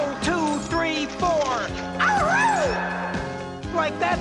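Cartoon monsters in OK KO! Let's Be Heroes howl and yelp in a rhythmic exercise-class routine over music, with a loud voiced rising and falling howl imitating wolf cries amid beats.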